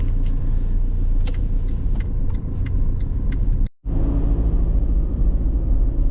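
A taxi travels through city streets, heard from inside the car as a continuous low road and engine rumble with faint clicks and rattles. The rumble breaks for a moment and then continues.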